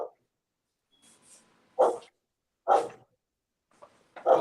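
A dog indoors lets out several sharp, spaced barks, loud and close, with short silences between them.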